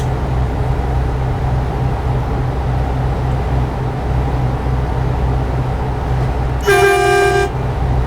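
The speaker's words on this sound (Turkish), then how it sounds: "Hemen atlamasın diye korna çaldım." Truck horn sounded in Euro Truck Simulator 2, one short loud blast near the end over a steady low engine and road drone, with no talking.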